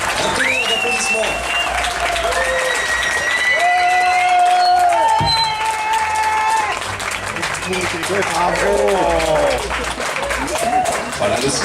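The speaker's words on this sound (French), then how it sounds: "j'aimerais tout d'abord un tonnerre d'applaudissements à tous mes compagnons" Loud, sustained applause and cheering from a crowd at an epic evening show by Cirque Jubilo and Furor Bellatorum. Shouts and whoops ride on top of steady clapping, and voices call out throughout.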